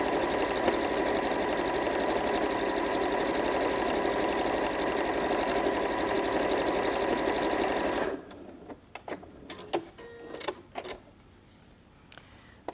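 A Janome QDC5270 sewing machine runs steadily and loudly while stitching a decorative edge, a fast continuous mechanical whir that stops abruptly, followed by a few scattered clicks and handling sounds.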